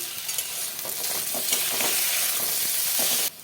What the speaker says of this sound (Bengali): কুমড়ো গাজর দিয়ে দিলাম একসাথে সবটা ভেজে নেব